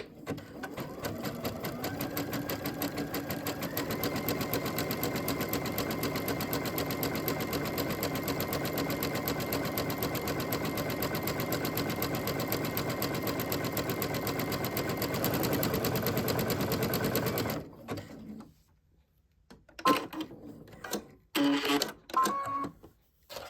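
A sewing machine runs fast and steady, stitching a close satin zig-zag with a dense rapid clatter for about seventeen seconds before stopping, followed by a few short handling noises.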